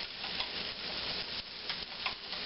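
Potatoes sautéing and browning in a pan for green chile stew, a steady close sizzle and crackle of frying with faint scraping stirs, no talk.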